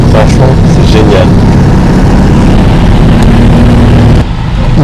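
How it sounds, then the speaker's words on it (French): Citroën 2CV6 two-cylinder engine running while the car is driven, a loud continuous buzzing drone with a steady low throb and a drop near the end, with a voice talking over it. "ce moteur caractéristique, ce son que tout le monde connaît"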